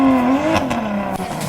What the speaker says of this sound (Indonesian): Saatnya drifting, geng!